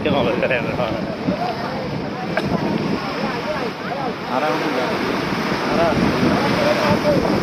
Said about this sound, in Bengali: সমুদ্রের গর্জনটাই দারুণ লাগতেছে